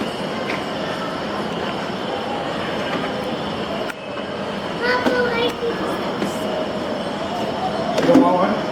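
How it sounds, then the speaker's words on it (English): A G gauge model train runs on a large indoor layout, giving a steady rolling rumble with faint wheel squeals and clicks under a busy, echoing hall, growing slightly louder near the end. "there's a train right here"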